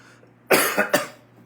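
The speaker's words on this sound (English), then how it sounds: "So I still have my cough." A single person coughs in a quick burst of three harsh hacks, close and loud against a quiet background.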